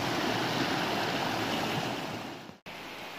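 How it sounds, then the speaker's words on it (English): A creek on the Appalachian Trail flows in a steady, close rush of water on an icy winter morning, broken by a brief dropout near the end. "But the creek is pretty."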